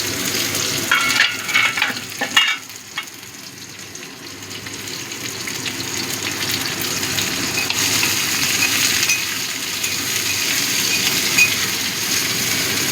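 Chopped onion with green chili fries in a pan for lentil dal, a few spatula clatters at the start, then a steady close sizzle that continues alone.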